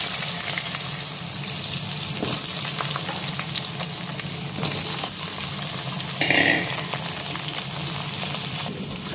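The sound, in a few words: potatoes frying in oil with bay leaf, cumin, dried chilli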